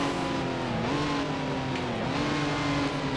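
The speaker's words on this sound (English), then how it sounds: "Into second gear, letting the engine do a lot of the braking there." A 1955-era race car in Grand Prix Legends drops into second gear under engine braking, its engine note dipping and rising in pitch, steady and close with no talk.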